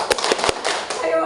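Scout group performing the Pramuka rhythmic clap: a few sharp, loud claps in a quick patterned burst, followed by murmuring voices.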